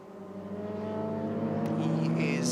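A white BMW M3 and a Mark V VW Golf GTI racing at Rockingham, with engine tones swelling as the cars approach and rev over steady commentary.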